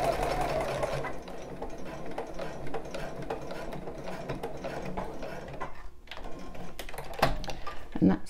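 A sewing machine stitches elastic onto a bra in a fast, steady mechanical whir with ticking gear sounds, pausing briefly near the end before a few closer clicks.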